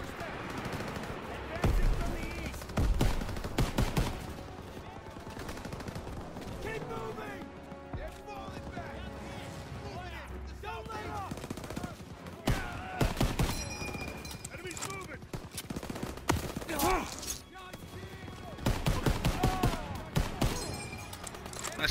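Call of Duty WW2 campaign combat with repeated bursts of gunfire and machine-gun fire, loud clustered volleys and scattered single shots, mixed with in-game voices and talk throughout.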